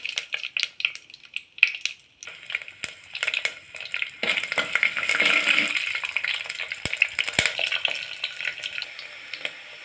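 Fenugreek seeds and garlic cloves fry in hot sesame oil in a pan, a close crackling sizzle that swells in the middle, broken by sharp clinks of a spoon against the pan.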